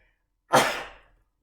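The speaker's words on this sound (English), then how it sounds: "Gonna sneeze, excuse me 1 second." One sharp human sneeze bursts out after a moment of silence, loud and close, then trails off quickly into quiet.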